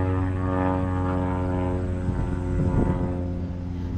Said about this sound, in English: And now there's an airplane.